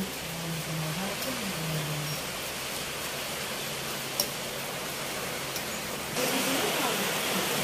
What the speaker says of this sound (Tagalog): Nakaulan na naman. Wala nang tigil ang ulan dito sa atin.